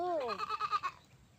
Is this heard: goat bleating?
yes